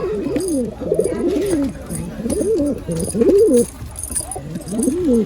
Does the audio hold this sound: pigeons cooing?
yes